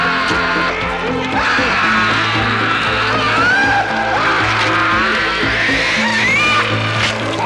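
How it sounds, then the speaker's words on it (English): A man in a horror movie screams in strained, rising agony as his head is pulled apart, over a dense, dramatic background of music and effects, the cry growing higher and more tortured. "The scream's pitch getting higher and higher and more strained as he's getting his head pulled apart."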